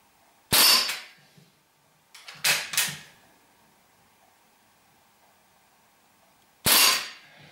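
Ruger 10/22 air rifle fired single-stage at about 11 meters: three sharp, loud shots spaced a few seconds apart, the middle one followed by a quick mechanical echo or clack, with quiet between them.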